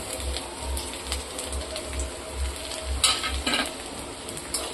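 Chopped ginger and garlic fry together in hot oil in a home kitchen for an egg dish, giving a steady soft sizzle with brief crackling bursts and light utensil clinks, no voices.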